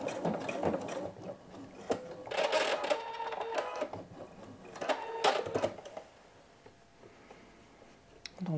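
A sewing machine backstitching a sherpa vest, with short runs of close mechanical stitching that start and stop, and quieter pauses between bursts.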